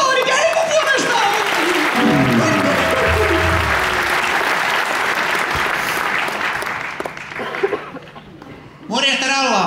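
Applause from a live comedy audience at a Kummeli farewell tour show, loud and sustained for several seconds before tapering off, with a voice speaking briefly near the end.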